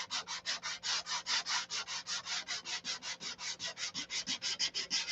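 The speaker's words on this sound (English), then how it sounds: "He's standing there with a little piece of sandpaper" Small piece of sandpaper worked by hand over a wooden model, a steady back-and-forth rasping of about two dozen even strokes in quick rhythm, close and fairly quiet, with no talk.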